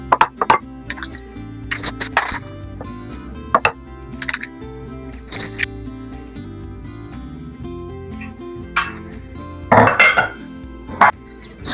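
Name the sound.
beating two eggs in a bowl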